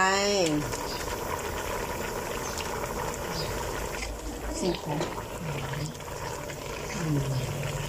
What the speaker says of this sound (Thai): เดือดแล้วเตรียมใส่ขี้เหล็กลงไป